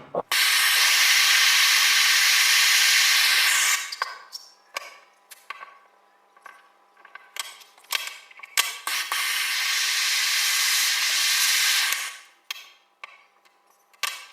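Small metal pieces being welded with an aluminium welding rod, a loud steady torch-like hiss lasting several seconds, a pause filled with clicks and knocks, then a second long hissing burst before more small taps.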